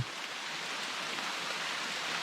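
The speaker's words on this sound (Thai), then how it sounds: "สิ่งที่ได้ก็คือฝน" Rain falling outdoors during a mushroom hunt in the forest, a faint, steady, diffuse hiss of drops with no distinct events and no talk.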